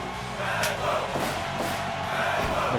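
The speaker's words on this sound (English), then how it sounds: "The crowd calling for Mag.Lo." Crowd at a wrestling event chants loudly for a wrestler, a sustained roar of many voices with rhythmic swells.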